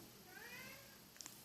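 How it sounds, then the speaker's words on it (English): A cat meows in a short rising call outdoors near fires on the south shore of Lake Chapala, Mexico, the mew fairly close and clear over steady background noise, followed by a couple of faint clicks. "I hear a kitty."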